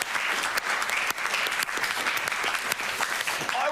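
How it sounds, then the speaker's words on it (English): A studio audience on a television quiz show claps for two contestants, a lively, continuous patter of many hands with distinct sharp claps standing out, no talk over it. "Round of applause for these 2."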